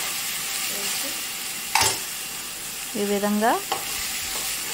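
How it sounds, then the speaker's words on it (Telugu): Slit green chillies and tomato pieces frying in a pan, a steady close sizzle with a couple of stirring scrapes, and a brief voice speaking near the end. "చక్కగా ఫ్రై చేసుకుంటూ"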